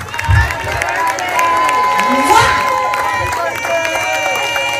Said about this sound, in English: Let's clap for our friend.